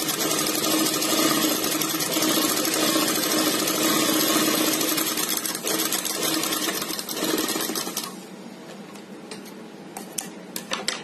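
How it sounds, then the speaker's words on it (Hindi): A sewing machine stitching a straight seam whirs in a fast, continuous mechanical rattle for about eight seconds, then slows and stops, leaving a few scattered ticks and clicks close by. "एक इस तरीके से हम सीधी सिलाई लगाते हैं।"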